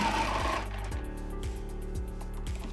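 A longarm quilting machine stitches a quilt top guided along an Apples and Oranges ruler template, its needle thumping in a fast steady rhythm with regular louder pulses, close and continuous with no talking.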